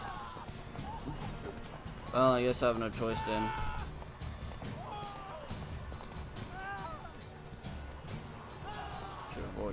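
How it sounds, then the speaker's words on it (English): A horse's hooves clip-clop at a run during a chase in The Witcher 3, a steady rhythmic clatter under game music and bleating animal cries, while someone talks over it. "I don't want to hurt the horse now."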